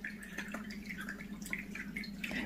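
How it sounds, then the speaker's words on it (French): An indoor water fountain runs with a soft, continuous trickle and small drips. The sound is quiet and steady throughout, with no talking. "on a l'impression c'est de l'eau qui coule"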